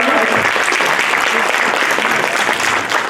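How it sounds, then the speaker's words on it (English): Audience at a furry Jeopardy game show convention event applauds a returning champion, a dense, loud, steady wash of clapping that fills the whole stretch without letting up. "Let's give a round of applause for returning champion."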